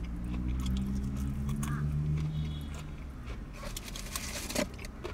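Close biting and crunchy chewing of KFC Wicked Wings fried chicken, wet crunches near the microphone, with a low hum under it and a few sharper bites toward the end.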